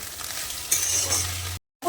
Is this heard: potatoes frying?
yes